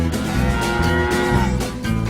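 Cattle mooing in the Oklahoma countryside, a loud, sustained bovine call held over a dense, continuous bed of farm ambience with no speech.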